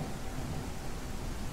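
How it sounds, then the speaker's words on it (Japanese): Thunderstorm ambience on a cursed farm in the free horror game SPECTER: a steady, dense wash of rain with low rumbling underneath, continuous and fairly loud, with no voices. "嵐ですね。"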